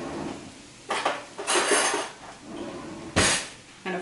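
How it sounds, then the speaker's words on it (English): A fork scrapes and clinks in a dish while mixing breadcrumbs with butter and fresh parsley for an easy tuna casserole, giving several short bursts of metal-on-dish scraping, close and fairly loud. "And a fork to mix it all up with"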